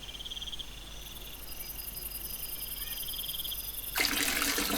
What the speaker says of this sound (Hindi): ये इसमें वाटर शो हो रहा है, यानी एक तरीके का फाउंटेन है। ये पानी ऊपर से गिर रहा है नीचे की तरफ।